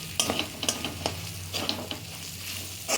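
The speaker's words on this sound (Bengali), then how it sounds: "মশলাগুলোকে আমি ভালো করে পেঁয়াজের সঙ্গে মিশিয়ে নিচ্ছি।" Spices and onions being stirred together in a pan over low heat, with a steady soft sizzle under repeated scraping strokes of the spoon, close and moderately loud, no talking.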